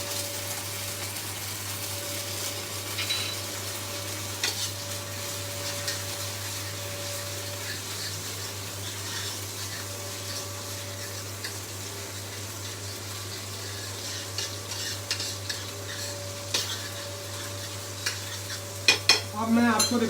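Amul butter and ginger garlic paste sizzling softly in a pan, a faint steady fizz over a constant low hum with occasional light clinks and stirs near the end.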